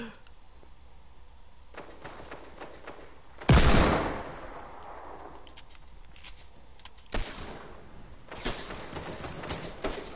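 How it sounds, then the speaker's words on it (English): A loud burst of gunfire erupts once and fades, followed later by further bursts of rapid shots at moderate distance. "All I hear is straight gunfire."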